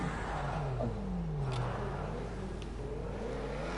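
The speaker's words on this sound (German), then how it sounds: "Da oben kommt ein Auto." A car drives past in GTA 5 Online, a steady engine whir rising and falling in pitch under a dense, constant game background.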